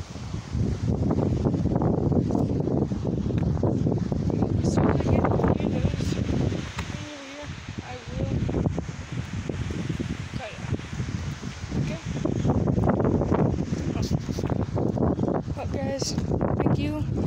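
Steady wind buffeting outdoors, a broad rushing noise that gusts and briefly dips before returning, heard beneath someone talking.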